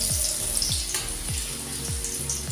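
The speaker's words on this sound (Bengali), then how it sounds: "তেলটা যখন খুব ভালোভাবে গরম হয়ে যাবে, তখন আমি এর মধ্যে আলুগুলো দিয়ে ভেজে নিচ্ছি।" Potatoes, pre-seasoned with salt and turmeric, frying in hot oil in a wok, giving a steady close sizzle with a few soft pulsing bursts and no voices.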